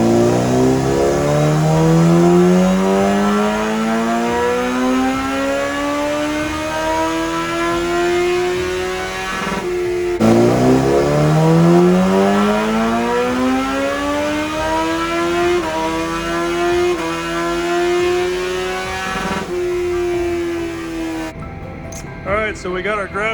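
Motorcycle engine, a Hayabusa or ZX14R, revving on a dyno: two long pulls, each rising steadily in pitch to a loud high wail before cutting off, close and sustained.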